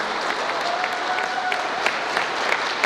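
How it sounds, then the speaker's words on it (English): Wedding guests clap together in a room, a lively round of applause with scattered sharper claps standing out, while a voice speaks briefly over it. "You give them a big clap now."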